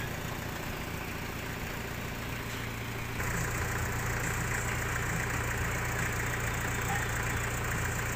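A Mazda car's engine runs at a steady idle, a continuous low hum with mild vibration that grows slightly louder and fuller midway, with no talking over it.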